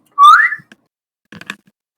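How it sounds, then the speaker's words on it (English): A person whistles alone, a bright rising whistled note followed by a short second burst of whistling, fairly close and loud with no talking. "can you, like, whistle?"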